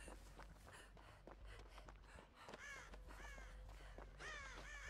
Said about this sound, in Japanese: 外側にもカラスおるんやな。